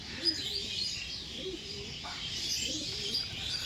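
Madras pigeons at a bird seller's stall, with soft low cooing phrases repeating under steady bright chirping and background hiss; no speech.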